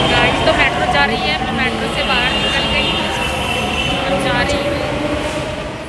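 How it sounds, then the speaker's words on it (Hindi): Delhi Metro train pulling away from a station platform, a steady loud rumble of wheels and motors with squealing, sweeping whine tones rising and falling, while someone speaks over it. "गाइज तो मेट्रो जा रही है, मैं मेट्रो से बाहर निकल गई हूँ."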